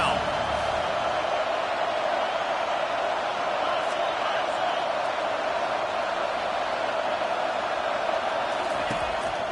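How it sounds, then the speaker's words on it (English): A stadium crowd at a football game roars steadily behind the defense on third down, a loud, continuous swell of cheering that never lets up across the whole stretch. "Decibels rising as the crowd gets behind this defense on third down."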